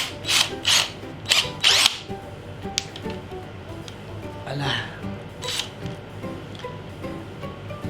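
A Parkside PABS 20-Li cordless drill driving a roughly 15 mm screw, with a few short whirring bursts up close followed by quieter grinding and rubbing.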